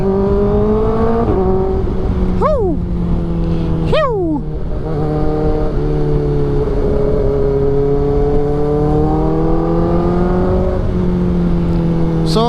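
A Kawasaki Ninja ZX-4RR sport motorcycle engine drones loudly and steadily, with a couple of sharp throttle blips rising and falling in pitch, heard up close.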